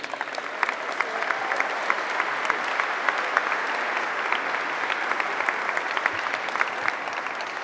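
Sustained applause from an audience at a San Francisco City Hall stamp unveiling, a dense, steady patter of clapping with scattered louder claps, filling the room without pause as a speaker is welcomed.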